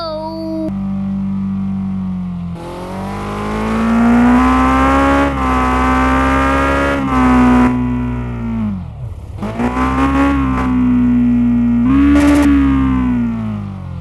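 A Kawasaki Ninja H2R engine revving, from a steady idle into several sharp loud revs with rising and falling pitch, dipping and climbing again, close and loud throughout.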